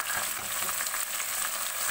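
Three medium tomatoes hitting hot oil in a biryani pot with green chillies and mint, a dense, even, close frying hiss lasting throughout, with no speech.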